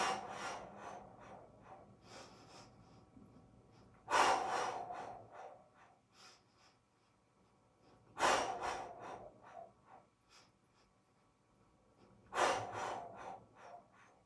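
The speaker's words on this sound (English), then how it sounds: "Strong breathing." During a Pilates workout, strong forceful breaths come in three loud exhalations about four seconds apart, each a rushing whoosh close to the listener, with quieter breathing between them.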